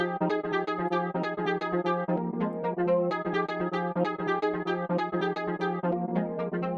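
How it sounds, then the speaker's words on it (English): A pitched-down sample chop in a house-style production runs through a flanger, giving its repeating bright tonal hits a sweeping, swirling coloration. The loop plays continuously and evenly, with no voices. "For the effects, I'm first putting a flanger on it"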